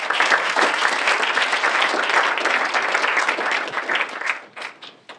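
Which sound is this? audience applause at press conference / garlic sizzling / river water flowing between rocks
audience applause at press conference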